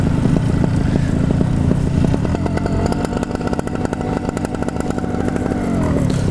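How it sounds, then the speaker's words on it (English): A paramotor engine idles in a field, a loud, close, rapid chugging putter with a steady rhythmic pulse throughout and no speech. "I'll just keep the motor warm here."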